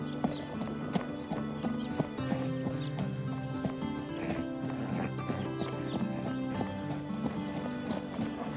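Horse trotting with steady clip-clop hoofbeats, close and continuous, with a whinny among them, in a riding scene from a French animated series.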